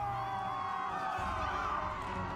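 Enemies in World of Warcraft running like a crowd, producing a faint, muffled din of many voices and footsteps with a steady, continuous murmur.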